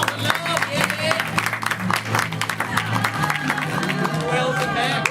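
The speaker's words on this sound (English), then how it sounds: "Clap for them, everyone. Make some noise. Show them love." An audience at a live event claps and cheers, a continuous busy mix of hand claps and crowd voices, fairly close and steady throughout.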